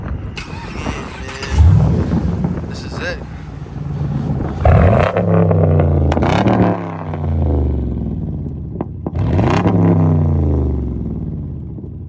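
An upgraded V8 car engine rumbles close by, with several rising revs and a roaring burst partway through, and someone talks briefly over it.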